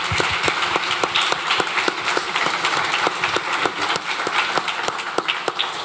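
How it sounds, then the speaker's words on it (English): Audience at a live show in a social club applauds guests, a dense sustained burst of many hands clapping with sharp individual claps standing out, filling the room throughout. "Round of applause for our guests,"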